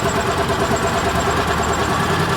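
An Argo amphibious vehicle's engine runs on old gasoline with a steady, close, continuous mechanical drone at idle, with no talking.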